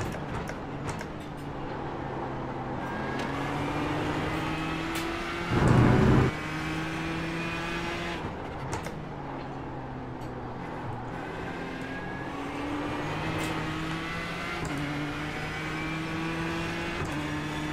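A race car engine in the iRacing sim at Watkins Glen drones steadily, pitch climbing and dropping through gear changes with repeated shifts, loud and close throughout.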